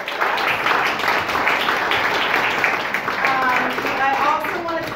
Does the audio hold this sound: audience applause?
yes